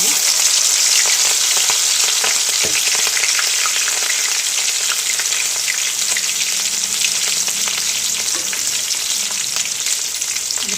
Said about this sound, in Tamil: அடுத்து பச்சை மிளகா போட்டுடலாங்க